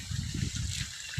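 Water pours from a freshly drilled borewell in an aquifer zone near Mosangi, Gurrampodu, as a continuous bright rushing hiss over rumbling low bumps, with no voices.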